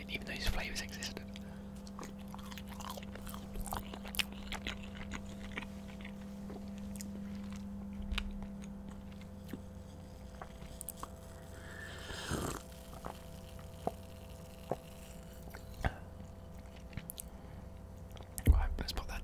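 Whispered, close-up chewing and eating of a spicy curry, with soft wet bites and mouth sounds set under a quiet steady hum, broken by occasional louder clicks and a brief rustle.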